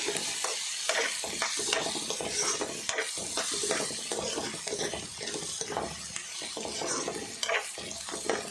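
Onions fry in a pan while being stirred, a soft continuous sizzle broken by repeated scraping and stirring strokes, close and fairly quiet.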